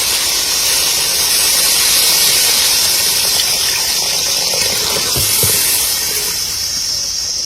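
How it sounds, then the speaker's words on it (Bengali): Water poured into a hot pan of sautéed potatoes raises a loud, steady steam hiss that fills the whole stretch with little change, with no voices. "আলু কষানো হয়ে গেছে, আবার জল দিয়ে দেবো।"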